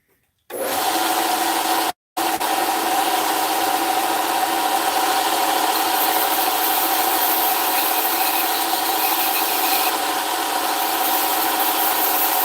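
A knife blade is sanded at 600 grit with a continuous, droning machine whir. It starts abruptly, breaks off briefly after a couple of seconds, then carries on evenly and loudly to the end.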